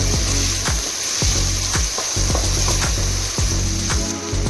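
Tomato masala with shellfish fries loudly in a pan, a steady hiss broken by repeated sharp scraping strokes of a spatula at an uneven rhythm, close and unaccompanied by speech.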